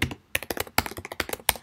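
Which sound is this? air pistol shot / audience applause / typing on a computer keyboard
typing on a computer keyboard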